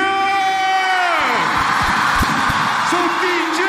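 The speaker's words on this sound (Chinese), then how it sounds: "如果你准备好要看这一场 battle， 再给我来一点尖叫" Audience at a televised street dance battle final screaming and cheering, a loud sustained crowd roar swelling under a host's amplified voice.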